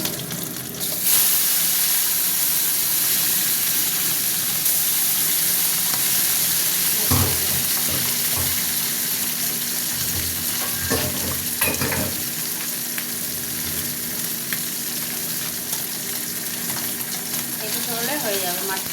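Fish fry in oil in a pan, a steady loud sizzle running throughout with occasional scraping and stirring knocks from a utensil, and no voices over it.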